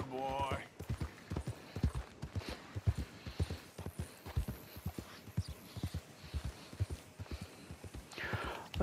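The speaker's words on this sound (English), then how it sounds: "What an incredible horse." Horse hooves clip-clop in a steady, fairly close walking rhythm across a western trail in Red Dead Redemption 2, with faint breathy vocal sounds at the start and end.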